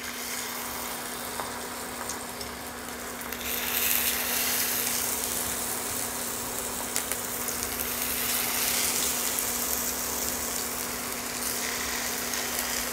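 Hilsa fish coated in salt and turmeric frying in hot oil, giving a steady broad sizzle that swells a little after the first few seconds and holds close and continuous throughout.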